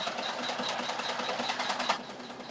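A Janome 500E embroidery machine sews a placement stitch on a passport cover in the hoop, giving a steady, rapid, close mechanical whir with a fast rhythmic needle patter.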